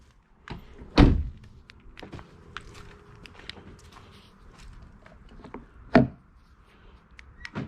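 A car's driver-side door is opened and shut, with two loud thumps about five seconds apart and light handling clicks and rustles between them, close by.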